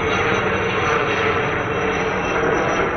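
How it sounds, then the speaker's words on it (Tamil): A helicopter passes overhead above a road in Ernakulam, Kerala, its engine and rotor making a steady, loud, unbroken roar for the whole stretch, with no talking. "இது ஹெலிகாப்டர்."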